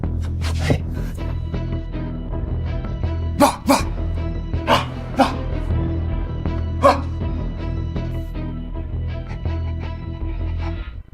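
A man imitates a dog, giving several sharp barks in a rough rhythm over a low rumbling background, fairly close and loud.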